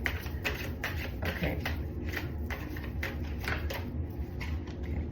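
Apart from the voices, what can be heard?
shuffling a large deck of tarot cards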